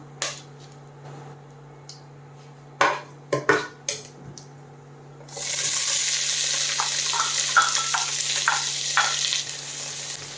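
Onions and fennel hit hot oil for a Kumbakonam kadappa: a few sharp knocks and clatters over a low hum, then a sudden loud sizzle that keeps going with occasional stirring scrapes.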